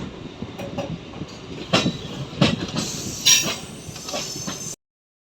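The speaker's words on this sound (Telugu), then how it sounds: "ఇక్కడ మనం నిడదోలు రైల్వే స్టేషన్ లోపలికి ఎంటర్ అయిపోతున్నాం" A train entering Nidadavolu railway station rolls along the rails with steady rumbling and several sharp clanks and wheel squeals, then the sound cuts off abruptly.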